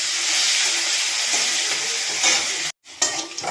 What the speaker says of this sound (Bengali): এবার এটাকে আমি বেশ ভালো করে ভেজে নেব